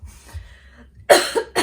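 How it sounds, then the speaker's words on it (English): A couple of sharp coughs burst out close by after a quiet moment, the first strongest and a second following shortly after. "I get all excited and I inhale my own spit and then I have to cough"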